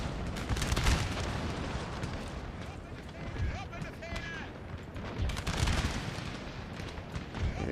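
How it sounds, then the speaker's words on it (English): Prussian artillery and gunfire in the Napoleonic battle game Napoleon: Total War, dense booming and crackling volleys with a roaring battle wash, loud and continuous, with someone talking over it. "God damn, that Prussian artillery."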